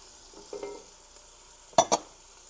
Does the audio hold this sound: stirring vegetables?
yes